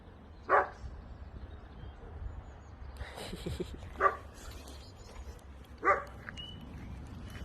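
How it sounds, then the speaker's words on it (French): A dog barks three times, well spaced and moderately distant, over a quiet outdoor background. "Il est pas content de nous voir passer, le toutou."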